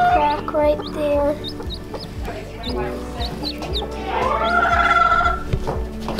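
Several Sussex chickens cluck and squawk close by in a busy, overlapping chorus, with sharp calls and a longer rising cry near the end.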